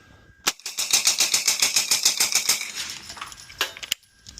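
A NAK9R DIY rifle fires a rapid string of about twenty evenly spaced shots at close range. The loud cracks run in a fast, steady cadence, followed by a few scattered metallic clinks as the firing stops.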